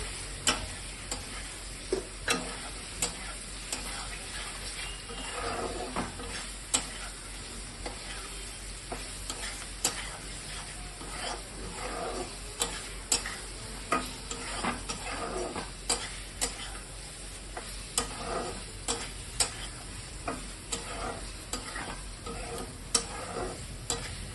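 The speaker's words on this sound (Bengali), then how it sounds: "মাছটা আমি একটুখানি দিয়ে এটা কষিয়ে নেবো মশলার মধ্যে" Magur catfish sautés in a pan of ground cumin masala with salt and sugar, a continuous close sizzle broken by repeated sharp clicks and scrapes of a spoon stirring against the pan.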